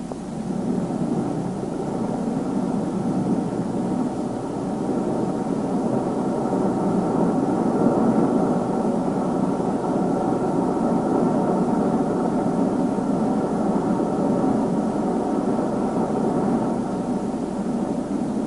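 Steady, loud roar of a spaceship squadron's engines in flight, a radio drama sound effect, holding an even droning hum with no speech.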